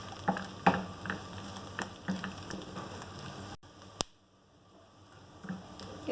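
Magaz melon seeds fry in a pan for sheer khurma, giving a steady close sizzle broken by a few sharp spoon clicks, then quieting briefly before the crackle resumes.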